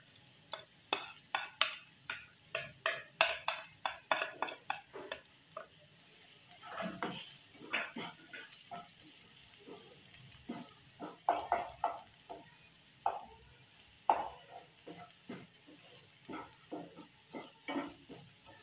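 Chopped onions sizzle and crackle in hot oil for chicken keema samosa filling while a spoon scrapes and stirs the pan in irregular bursts, close by.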